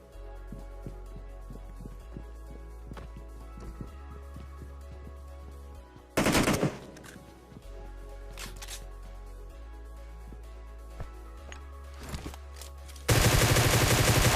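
Gunfire in PUBG Mobile played on an iPad: scattered distant shots and clicks, then loud bursts of automatic fire in two heavy stretches, with no voices.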